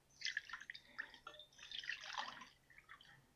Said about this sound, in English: Actually, I'm going to put the water in here first.